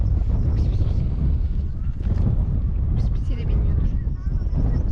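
Steady wind buffets the microphone with a constant low rumble throughout, while a person talks over it, outdoors near Göbeklitepe.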